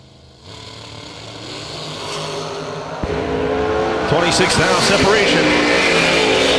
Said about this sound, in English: 496 for the dragster on the left side